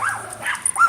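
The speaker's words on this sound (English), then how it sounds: "You can hear another dog barking in the background there" Another dog barking in the background during an outdoor walk on a nice day, a couple of short yipping barks at moderate distance.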